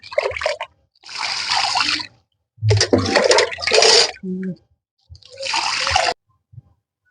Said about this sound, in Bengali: পুরো জলটি কিন্তু আমি এইভাবে গাছে দিয়ে দেবো পুরো জলটি গাছে দিয়ে দেবো